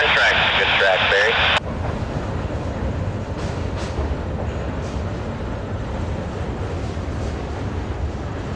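CPKC freight train J20 crosses a river near La Crosse, Wisconsin, a steady, broad rumble heard from a distance that stays even throughout, following a short burst of harsh, tonal noise at the start.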